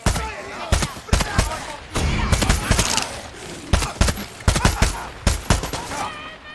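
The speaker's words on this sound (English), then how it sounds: "Someone is shooting." Gunfire in the video game Far Cry 6, with loud bursts of shots in rapid clusters throughout, some sharp single cracks and automatic volleys, and faint voices in the mix.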